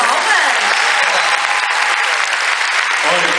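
Loud, sustained audience applause at a Mónica Sintra show, a thick continuous roar of clapping from a large crowd, close and unbroken for the whole stretch.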